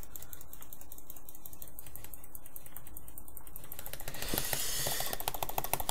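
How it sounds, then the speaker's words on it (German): Rapid, continuous clicking of buttons during a video game session, a dense clatter of clicks with no pauses that grows louder and harsher toward the end, with no talking. "Ihr hört ja, wie ich hier klicke."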